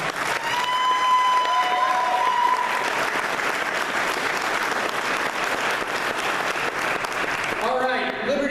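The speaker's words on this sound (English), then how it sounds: "Let's give them a round of applause." A gala audience applauds pastors Barry and Ann Bird, dense sustained clapping from a large crowd filling the room for several seconds. Background music and a few voices sound beneath it before it thins near the end.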